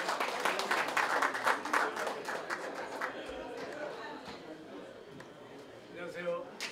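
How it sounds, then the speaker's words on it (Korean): Applause from a crowd at a year-end association gathering welcoming a speaker, dense clapping at first that thins out and fades, with voices and chatter rising underneath toward the end. "박수로 우리 환영을 좀 해주십시오"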